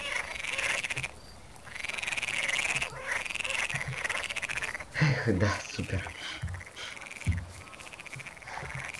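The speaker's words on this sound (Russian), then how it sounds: "Квакают на глушечке." Frogs croak at a small pond in the farming game Farming Simulator 19, repeated rippling calls running steadily through the clip, with someone talking casually over them.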